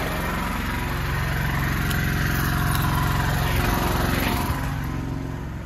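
A small inverter generator engine runs steadily nearby with a constant droning hum and slight fluctuations, loud and continuous throughout.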